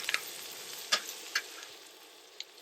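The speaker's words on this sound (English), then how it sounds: "it's exactly what we want when we're stir-frying veggies" Vegetables stir-frying in a hot pan outdoors on a hunting and camping trip, a faint steady sizzle with a few sharp clicks and taps from stirring, quiet and without talking.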